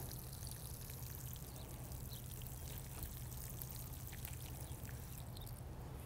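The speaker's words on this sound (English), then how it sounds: "After you've planted your seeds, be sure to water them well." Water pours steadily onto newly planted beet seeds in a garden bed, a soft, even, continuous splashing trickle heard fairly quietly.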